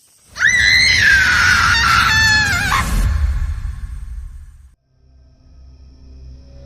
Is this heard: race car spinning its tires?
no